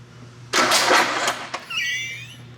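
A Nissan Skyline R33 with a swapped engine cranks briefly with a few rough turns on its first start, then catches with a loud burst, settling into a high, revving idle.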